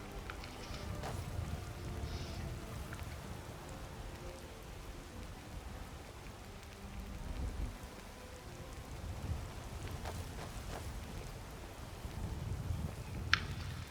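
Steady rain falls in the video game Skyrim, a continuous soft hiss of drops spread across the whole stretch with a few faint clicks and no talking over it.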